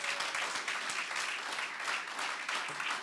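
Audience applause at a web developer demo day: a steady, dense wash of many hands clapping at moderate distance, sustained evenly throughout with no voices breaking through.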